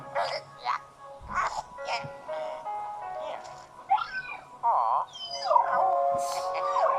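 Ghost dog from the video game Luigi's Mansion 3, giving several short yips, whimpers and a rising howl-like cry in bursts, over a soft tonal music bed.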